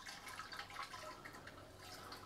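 Dissolved calcium nitrate solution poured from a jug into an IBC tank, a continuous splashing, trickling stream with scattered drips, fairly close and steady throughout.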